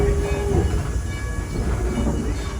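A Greenfield Village railroad train rumbles low and steady as it slows to a stop, with a brief squeal early on and a continuous rolling wheel noise close by.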